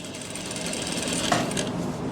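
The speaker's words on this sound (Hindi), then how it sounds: "तो अब हम सिलाई लगा रहे हैं।" A sewing machine stitches the belt of palazzo pants with a fast, even mechanical rattle that runs continuously and close by for about two seconds.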